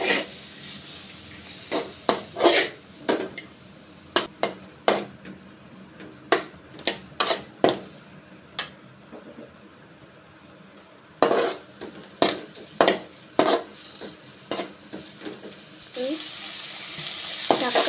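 Cut tomatoes fry in a pan under a low sizzle, broken by sharp, irregular spatula scrapes and clacks against the metal, close by, with occasional talking.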